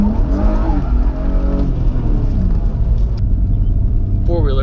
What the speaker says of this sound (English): Four-wheeler.